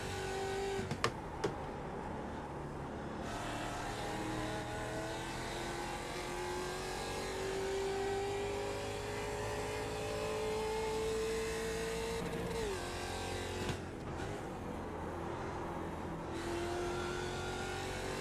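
A simulated race car engine in iRacing at the Zolder circuit drones steadily at high revs, pitch rising slowly through a long pull, dipping on a brief lift, then climbing again, loud and continuous without talk.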